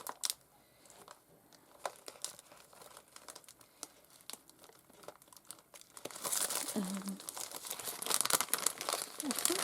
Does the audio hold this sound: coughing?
no